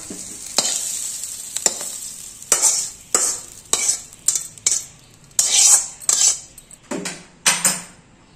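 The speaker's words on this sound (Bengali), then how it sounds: "এবার আমি এটাকে শিলনোড়ায় বেটে নেব।" Ridge gourd peel paste ground by hand on a stone grinding slab (shil-nora): a run of rough, rhythmic scraping strokes, each a short bright rasp with brief pauses between, close and fairly loud.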